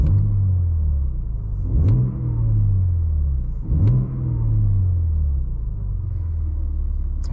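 Revving from a BMW M3 G80 with a manual gearbox, in Efficient mode with M Sound Control on: two sharp throttle blips, each falling back into a deep, loud idle burble, then a third rev starts at the very end.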